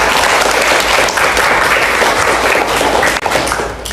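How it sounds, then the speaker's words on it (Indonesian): A classroom gives a round of applause for a student who presented a mocktail recipe, steady dense clapping filling the room throughout with no talk. "Oke, beri aplaus untuk Atun."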